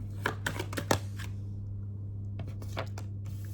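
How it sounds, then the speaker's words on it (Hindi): Tarot cards shuffled by hand in a few quick riffling bursts early on, then a short pause and several softer card flicks, close and alone over a steady low hum. "शफल 3 कार्ड्स में लेने जा रही हूं।"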